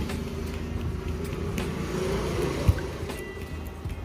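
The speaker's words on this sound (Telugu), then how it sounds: "ఇట్లా ఆ సౌండ్ అయితే వస్తుందనమాట చాలా ప్లే ఉందనమాట" A motorbike engine with a worn connecting rod, excessive play and overheating from running without oil idles close and steady, a continuous low rumble with one sharp knock partway through.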